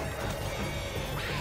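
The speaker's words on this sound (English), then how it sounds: "They're breaking through the glass!" Zombies smash through window glass in the Left 4 Dead 2 video game, a loud, dense burst of crashing and shattering that fills the whole moment with no speech.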